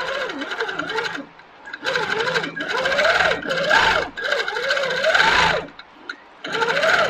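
Sitdown longarm quilting machine stitching at 11 stitches per inch, fast whirring bursts that start and stop several times with short pauses, loud and close.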